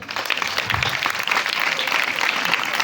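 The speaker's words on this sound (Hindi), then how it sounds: "मैं चाहूँगा कि आए हम सब जिन्होंने रोज़ा रखा उनके लिए ताली बजाए" Church congregation claps together in a steady, dense burst of applause lasting a few seconds, filling the room evenly with no speech over it.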